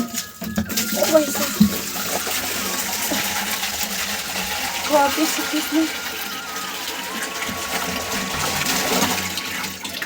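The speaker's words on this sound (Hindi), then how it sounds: "तो मैंने इसे पानी डाल दी है" Water is poured into a vessel for heating drinking water for a cow, heard as a steady gushing splash over about ten seconds, close by, with a person speaking briefly over it.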